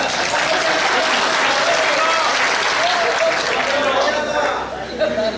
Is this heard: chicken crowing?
no